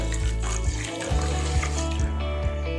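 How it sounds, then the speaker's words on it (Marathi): Water is poured from a cup into a pan to start sugar syrup for balushahi, a steady close trickling splash with a few brief louder gulps, heard alone without talk. "तर अर्धा कप आपण पाणी ओतून घेऊयात"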